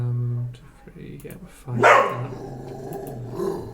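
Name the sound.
dog barking at a passing dustbin lorry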